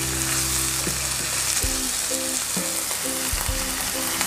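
Green beans stir-frying in a pan as a little water is added, producing a loud, continuous close-up sizzle with faint stirring knocks scattered through it.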